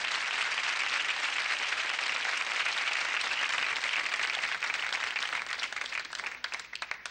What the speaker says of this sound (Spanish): démosle un aplauso de estímulo